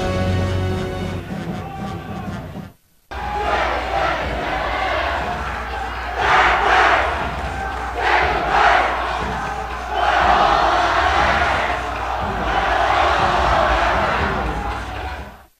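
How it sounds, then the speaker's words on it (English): A large crowd roars and cheers in a gym at a 2014 CIF state girls volleyball championship final, the loud sustained noise swelling in repeated surges after a brief break near the start. "The crowd getting into it."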